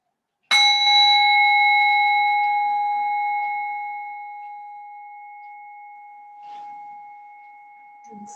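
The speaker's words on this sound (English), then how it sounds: "In a moment, you'll hear the sound of the bell." A single bell struck during a restorative yoga session, a clear metallic ring with a sharp onset that hangs and slowly fades over several seconds, with a faint soft knock later on.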